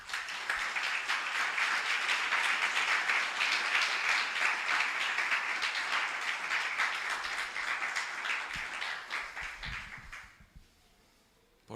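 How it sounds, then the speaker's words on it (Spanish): A church congregation breaks into sustained, loud applause filling the room, dense clapping holding steady for about ten seconds before fading out abruptly near the end. "Denle un aplauso al Señor."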